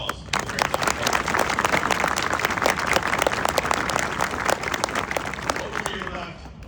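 A large crowd applauds the Marine band at a recruit graduation ceremony at MCRD Parris Island, with dense, even clapping that stays loud throughout. Scattered voices sit beneath the applause.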